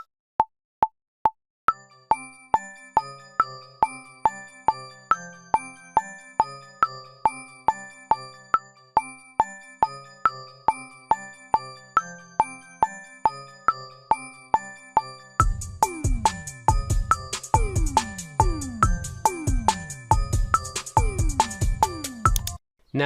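A metronome in BandLab clicks steadily under a plinking melodic beat, and a heavier drum pattern with deep booming hits joins in near the end, all playing in tight time with no talk.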